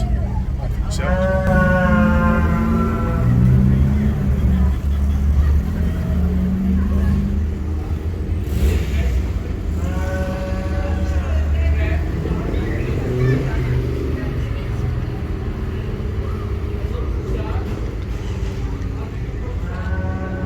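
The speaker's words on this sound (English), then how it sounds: "all the cars and that are going to start moving out, so I can get the footage of seeing them moving out and hearing them going as well" Cars and other motor vehicles move off at a gathering near Brecon in the Brecon Beacons. A steady low engine rumble runs throughout, with swelling pitched revving at times and people talking in a few short stretches.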